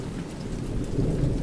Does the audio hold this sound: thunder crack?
yes